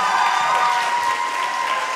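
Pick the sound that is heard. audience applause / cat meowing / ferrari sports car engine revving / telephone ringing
audience applause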